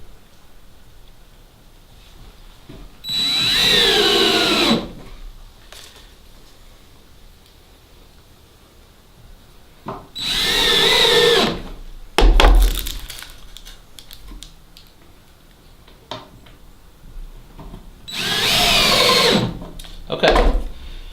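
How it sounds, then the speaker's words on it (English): Power drill driving screws into plywood while a disbudding box for goats is built, three loud whirring bursts a few seconds apart with clunks and handling knocks between them, fairly close, with no talking. "we're going to go ahead and finish putting the other screws in."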